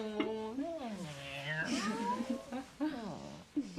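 A human voice imitates a cat, giving a run of drawn-out, rising and falling meows with sliding pitch over several seconds at a party game among young adults, close and fairly loud.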